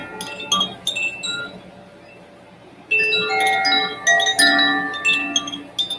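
A Koshi water-element chime rings with bright, shimmering clusters of tones, first a few tinkling strikes that fade, then after a brief lull a fuller, sustained cascade of overlapping metallic rods swinging and ringing close by.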